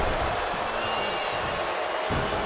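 A wrestling crowd cheers in a steady, dense roar that fills the arena evenly, with no single voice standing out.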